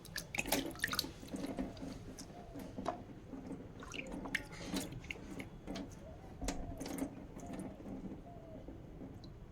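Fish being washed by hand in water, close splashing, dripping and squishing with irregular small sloshes throughout, fairly quiet and with no speech.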